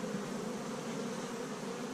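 Honey bees swarm around open hives in a dense, steady buzz that stays loud and close the whole time, with no voices.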